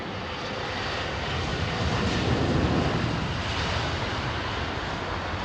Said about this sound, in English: E190 freighters with Astral Aviation, regional freighters